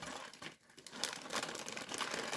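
A small plastic bag of Warhammer miniature parts from a mailed parcel crinkles and rustles continuously as it is opened, close and fairly loud, with a brief lull in the middle and no talking.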